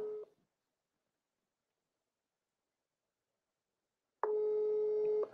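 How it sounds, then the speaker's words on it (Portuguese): A telephone call ring tone plays as someone phones a person, heard as a steady electronic tone that fades out at the start and returns loud near the end, with silence between. "Tô ligando pro Thiago"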